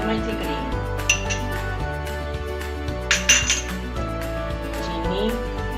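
A spoon clinks a few times against a glass or steel container while cream is added to a banana and date milkshake, with light kitchen clatter and background sound.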